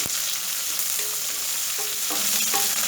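Onion sizzles steadily in hot oil with already-browned shallots, a loud continuous frying hiss with a few soft stirring scrapes and no talking.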